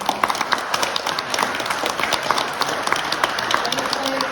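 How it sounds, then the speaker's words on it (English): Audience applause at the closing of an arts centre medieval talks event, a steady wash of many hands clapping with dense overlapping claps throughout, fairly close and sustained without letting up. "Can we have another round of applause for them"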